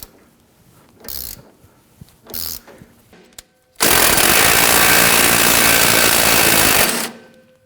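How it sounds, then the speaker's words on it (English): Pneumatic impact gun working a sway bar link nut loose on a 2006-2010 Hummer H3: a few short buzzy bursts, then a loud, sustained rattling hammer lasting about three seconds before cutting off. "used our impact gun. I'm going to try that on the bottom"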